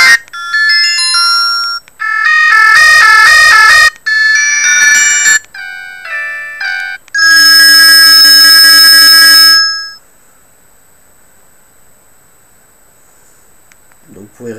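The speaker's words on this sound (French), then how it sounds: "En appel entrant, voici quelques exemples de musique et de sonneries." Several ringtones and electronic melodies from a Senior Easy mobile phone play in turn, loud bright chiming and beeping tunes separated by short gaps, followed by near silence.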